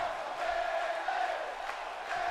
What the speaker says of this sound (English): Crowd still cheering Bayley on here.